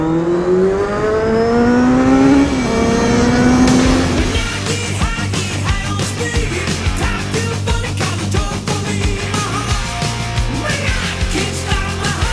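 Motorbike engine revving while riding, a rising whine in the first few seconds, then rapid rough engine pulses and wind noise, loud and near, with no speech.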